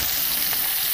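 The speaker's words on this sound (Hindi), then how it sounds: "अब अच्छे से मछली हम लाल कर लेंगे और लाल भुना जाएगा दोनों तरफ" Fish frying in mustard oil, a steady dense sizzle that fills the moment evenly and loudly, close up, with no voices or other sounds.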